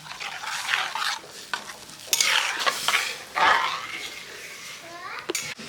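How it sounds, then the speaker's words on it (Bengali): Ginger-garlic paste stirred in a pan for egg curry, a spoon scraping and swishing through the thick paste in irregular strokes with light sizzling underneath, close and moderately loud. "সুন্দর করে নাড়াতে হবে এখন"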